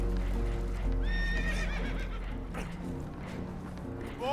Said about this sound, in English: Horses are spooked, and we're taking on water.